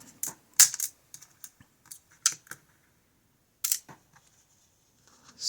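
A paracentric Ikon N1 lock is locked with its key. A few sharp metallic clicks and scrapes come close up in short bursts, separated by quiet gaps.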